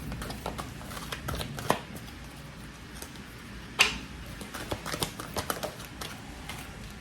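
Tarot cards are shuffled and drawn nearby, making soft riffling, papery slides and scattered light taps and clicks that come in uneven bursts at a fairly low level, with no talking.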